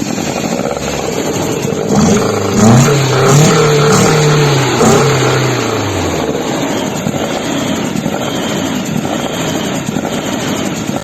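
Car engine fitted with an individual throttle body (ITB) kit, idling with a low steady rumble and then revving up and settling back, loud and close with no talk.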